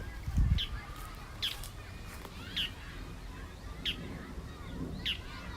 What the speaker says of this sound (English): Oh, interesting bird.